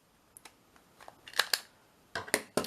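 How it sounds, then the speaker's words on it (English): Quick snips of scissors trimming the small corners off a piece of paper for a pocket folio, a few light isolated cuts followed by a louder cluster of close crisp snips. "Cut the little corners."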